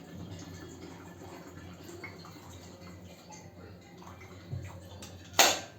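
About 200 to 250 ml of water is poured into a jug of milky protein shake, a faint trickling splash building to a brief louder gush at the end, with quiet room noise.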